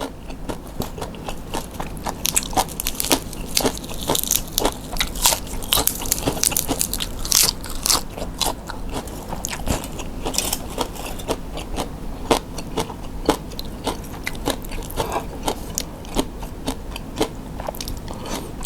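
Crunchy food eaten with Thai chili paste and stir-fried pork, heard as loud, close biting and chewing crunches in a dense, continuous run with no talk.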